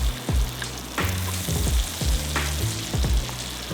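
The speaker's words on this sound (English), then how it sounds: "I'm gonna cook this thing on both sides, make sure it's cooked all the way to the bone" Trout sizzles loudly in a hot pan at a creekside catch-and-cook meal, with a steady crackling fry punctuated by rhythmic scraping and clanking of a utensil against the pan about once a second.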